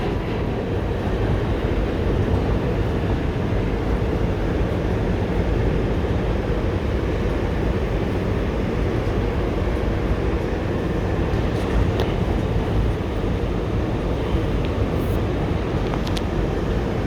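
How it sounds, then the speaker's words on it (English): An R211T G subway train rides the Culver Express line through New York, a steady loud rumble of wheels and car body running without a break from start to finish. "This is a Church Avenue bound G train."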